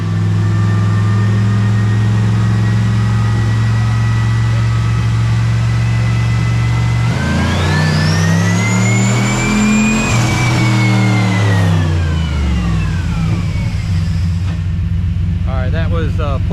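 A 1970 Chevelle with a turbocharged LS3 engine roars on a dyno, holding steady before climbing in a long rising rev up to about 5,000 RPM, then dropping back as the throttle lifts, loud and close throughout.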